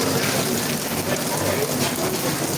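Heavy rain pours steadily at Tekka Centre in Singapore, a dense, continuous hiss filling the space around the listener with no voices over it.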